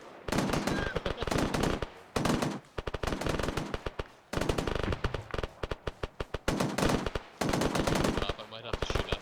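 Machine gun fire at a milsim field training exercise, loud rapid bursts repeating one after another with short gaps, close and dominant throughout.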